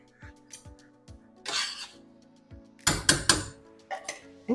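A spoon stirring thick canned coconut milk in a pot for Thai coconut chicken soup, heard as scattered close clinks and scrapes against the pot with quiet pauses between.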